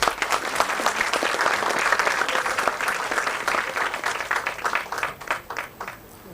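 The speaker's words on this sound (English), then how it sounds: "Round of applause, everyone." An audience at a college event applauds with loud, dense clapping that holds steady for several seconds, then thins into scattered claps as it fades out.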